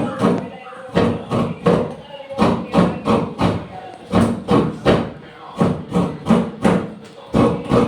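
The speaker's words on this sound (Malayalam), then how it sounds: "ഞാനിപ്പോൾ അവിയലിലേക്കുള്ള തേങ്ങ ചിരകാണ് കേട്ടോ" Coconut for aviyal being scraped on a grater in rhythmic bursts, loud close scraping strokes repeating roughly twice a second with brief pauses between groups.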